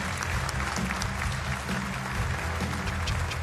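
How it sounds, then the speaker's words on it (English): Dense audience applause rolls on at the BAFTA Games Awards 2024 ceremony, steady and close, with no break in the clapping across the whole stretch. "Keep the claps going."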